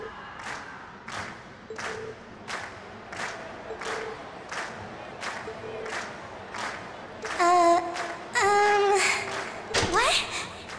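A video game crowd in Trails of Cold Steel cheers and applauds in rhythmic, evenly spaced bursts of clapping, then swells into louder shouts and whoops near the end.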